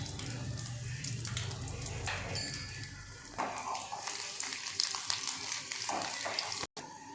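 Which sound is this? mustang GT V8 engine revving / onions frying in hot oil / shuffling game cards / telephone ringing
onions frying in hot oil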